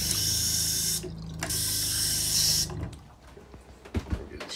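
A bathroom sink tap in a camper runs water in two steady bursts of broadband hiss, separated by a brief pause, then cuts off, leaving faint handling clatter and knocks.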